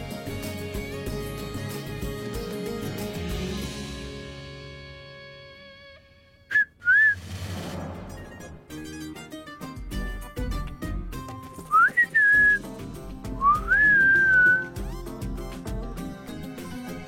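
A person whistles short rising and falling notes, a few brief phrases that stand out over background music in a French drama scene.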